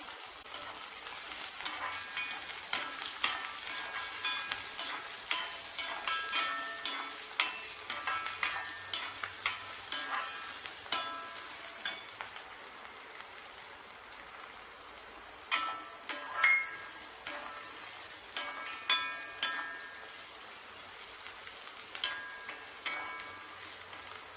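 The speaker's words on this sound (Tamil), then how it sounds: "வெங்காயம் கொஞ்சம் வதங்கட்டுங்க" Onions sautéing in a pan on a low flame for garlic kuzhambu: a soft continuous sizzle punctuated by many quick, regular spatula clicks and scrapes, fairly close and quiet, with no talking.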